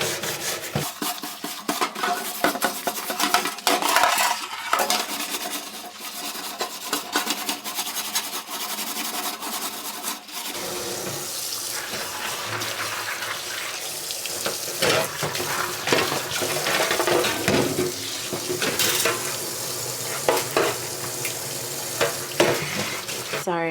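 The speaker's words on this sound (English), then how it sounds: "I'm just going to grab washing up liquid and my scourer" A scourer with washing up liquid scrubs a greasy oven tray in a sink, with continuous harsh rubbing and scraping strokes and some wet splashing, loud and close, no speech.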